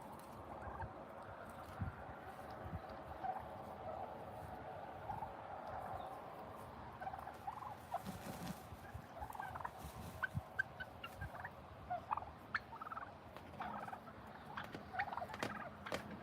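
Turkeys in a farm pen gobble in scattered bursts at moderate distance, with other fowl noises and faint background activity.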